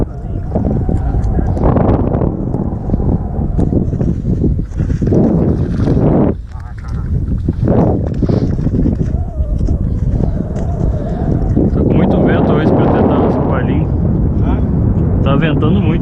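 Strong wind buffeting the microphone at an outdoor fishing spot, a loud continuous roar with gusts, while people talk over it.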